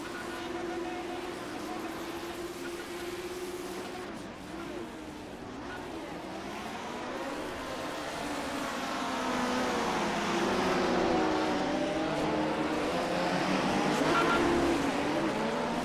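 Race cars roar off the start in the iRacing sim: a dense, layered engine drone with many overlapping pitches rises and falls as the pack accelerates, growing louder toward the end, with no break.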